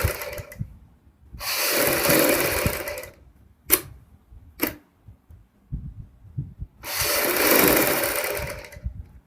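An electric sewing machine stitches around a boat neck kurti neckline in two long steady bursts, separated by quiet pauses with a couple of short stitch runs and handling clicks.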